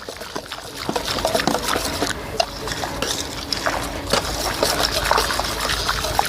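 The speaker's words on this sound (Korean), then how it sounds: "덩어리를 좀 풀어주기 위해서 이렇게 젓습니다 이렇게 막 저어주세요" Flour is stirred vigorously into water to break up lumps, producing close, irregular sloshing, splashing and swirling liquid sounds that continue without pause.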